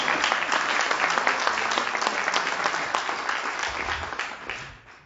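Audience applause at a book presentation, a dense, sustained round of clapping from a full room that carries on steadily and tapers off toward the end.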